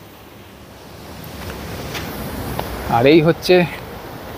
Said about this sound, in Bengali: ঘাগরা ওয়াটারফলস, দারুণ একটা জায়গা। নদীটা সেইখান থেকে বয়ে আসছে